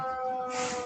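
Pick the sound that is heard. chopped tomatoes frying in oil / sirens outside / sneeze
sirens outside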